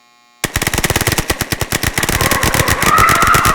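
Sustained automatic gunfire in an audio drama firefight: rapid rhythmic bursts start abruptly after a brief silence and continue loud and dense throughout, with a rising whine and scrape building toward the end.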